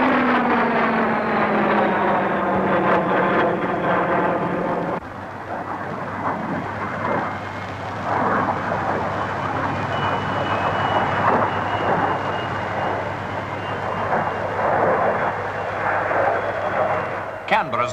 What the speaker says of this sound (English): The Folland Midge, powered by an Armstrong-Siddeley Viper jet, can fly at 600.